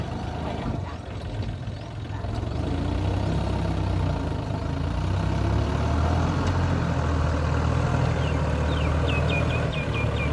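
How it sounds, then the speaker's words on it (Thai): A tractor engine drones loudly and steadily throughout while it pushes soil over a small bridge, part of clearing land for a date palm plantation, with a low heavy rumble and no talk. "ดูนะคะรถไถเขาลาเพื่อถมดินให้มันทับสะพาน"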